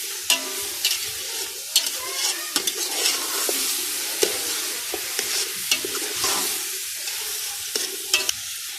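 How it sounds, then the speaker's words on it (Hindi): Mixed vegetables for pulao sizzle and fry in a pot while a spoon stirs and scrapes through them with repeated sharp clinks over a steady crackle. "सब्जी की थोड़ी भुनाई हो जाएगी।"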